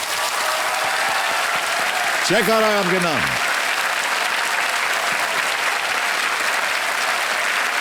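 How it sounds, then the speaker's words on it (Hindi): Studio audience applauding on the Indian TV quiz show Kaun Banega Crorepati, a steady broadband wash of clapping throughout, with a host speaking over it. "तालियां बज जाएं जोरदार इनके लिए।"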